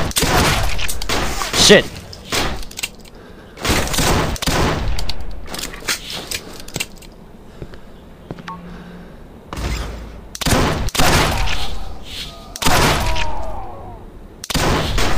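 Bursts of gunshots in the tactical shooter game Sierra 7, several loud sharp volleys separated by quieter stretches, with a brief spoken exclamation between them.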